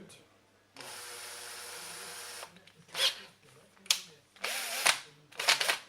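An electric drill with a 2.5 millimeter bit spins up in a long steady whine, then several shorter bursts of high-speed drilling into a Tecumseh engine crankcase, with brief pauses between.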